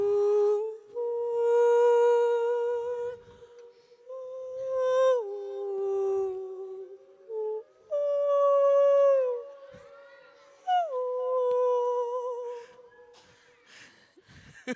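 A human voice imitates a whale call with long, sliding, wavering howls, held notes that bend up and down in pitch, repeated several times with short breaks between them.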